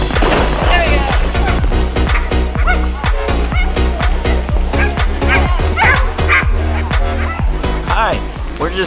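Dogs bark and yip steadily at an outdoor pool party for dogs on a wet, rainy day, loud and close with a busy crowd of barks, whimpers and people talking throughout.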